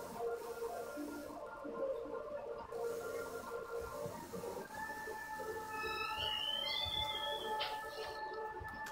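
A sewing machine stitches a folded piece of waste cloth for a tailoring-tools wall hanging, giving a steady mechanical whirr and rapid needle clatter that runs continuously, with a brief higher whine near the end.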